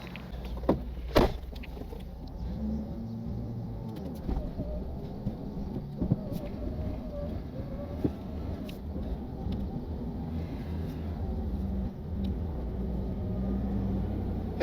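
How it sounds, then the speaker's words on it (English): A stuck vehicle's engine runs at high RPM while its tires spin during winching in the mountains, a steady loud drone that continues without a break, with occasional knocks and clunks on top. "I'm spinning my tires quite a bit"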